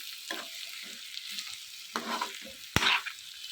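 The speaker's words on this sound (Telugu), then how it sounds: "ఆలుగడ్డలు మొత్తం కూడా ఈ ఆనియన్స్లో వేసేసుకోవాలి ఆనియన్స్లో వేసేసుకుని ఇదంతా బాగా మిక్స్ చేసుకోవాలి" Potatoes and onions frying in a pan for potato kurma, stirred with a spoon: soft hissing sizzle broken by several scraping strokes and one sharp clack, quiet and close, no voices.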